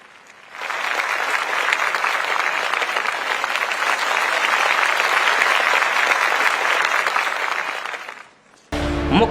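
A large crowd at a political rally at Jamboree Maidan in Bhopal breaks into sustained applause, a broad, even wash of clapping that swells in and holds for several seconds before cutting off abruptly.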